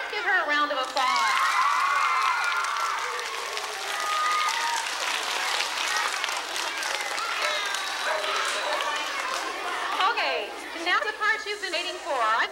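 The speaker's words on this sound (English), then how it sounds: "Let's give her a round of applause." An audience applauds and cheers for a young girl at an Iditarod event, loud sustained clapping from a crowd with children's shouts and chatter rising toward the end.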